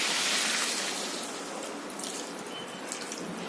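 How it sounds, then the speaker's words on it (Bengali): Water pouring into a pan of fig and prawn curry, a steady broadband splashing that is loudest at the start and then settles into a softer, continuous trickle, close and alone. "এবার আমি এতে জল দিয়ে দেব।"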